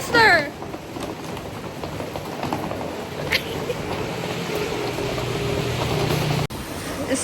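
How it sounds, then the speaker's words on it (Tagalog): Rain patters steadily on a Singapore street, a soft continuous hiss with light drops, as a voice exclaims over it near the start and ambient city noise continues beneath. "It's raining, y'all!"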